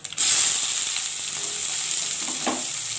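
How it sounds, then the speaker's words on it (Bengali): Onion tipped into hot oil in a pan, set alongside chilli, bursting into a strong, close sizzle after a brief clatter and then frying steadily throughout, with a small stirring scrape near the end. "এখন আমি তুলে দেবো পেঁয়াজটা।"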